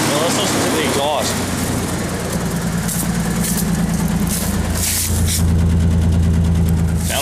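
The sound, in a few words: Ford truck engine exhaust idling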